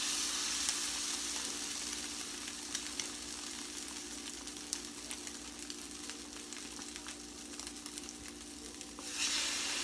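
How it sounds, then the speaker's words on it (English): Egg-dipped bread for dairy-free French toast sizzles steadily on a griddle, a continuous close crackling hiss with scattered pops that holds throughout and flares slightly at the very end. "lay it on the griddle or the frying pan, however you want to cook your French toast"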